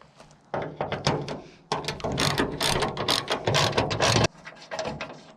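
A ratchet wrench removes a size 13 bolt from a car's bonnet mounting. Its rapid clicking comes close and loud in dense bursts, with a brief pause before the clicking resumes and then slows.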